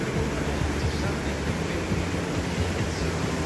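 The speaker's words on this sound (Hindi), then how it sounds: "ब्रिज के नीचे जो तेज़ रफ्तार में बहता हुआ पानी है," Fast-flowing stream water rushes beneath a bridge, a steady broadband roar with no pauses, loud and close throughout.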